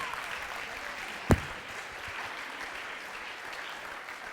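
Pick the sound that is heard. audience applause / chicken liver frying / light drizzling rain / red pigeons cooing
audience applause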